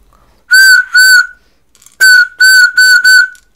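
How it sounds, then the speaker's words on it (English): A toy candy butterfly whistle gives six loud, shrill, steady tones, two short blasts, a pause, then four more in a row, very close and alone. "Wow, this is candy butterfly whistle."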